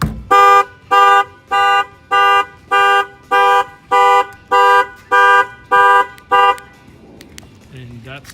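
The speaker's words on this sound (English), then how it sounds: "That can also trip the alarm." Alarm on a 2017 Mercedes C43, tripped by an added shock sensor: about ten loud, evenly spaced horn-like tones repeat steadily, then stop, leaving a brief quiet tail with faint movement.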